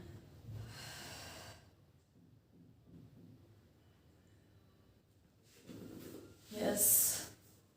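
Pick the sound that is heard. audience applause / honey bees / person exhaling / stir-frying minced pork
person exhaling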